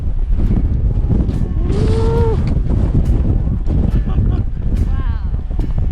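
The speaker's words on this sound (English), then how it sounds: "Pretty windy though today." Strong wind roars and buffets the microphone on a mountain ski pass near Lake Louise in the Rockies, a constant heavy rumble with a brief excited shout from a voice.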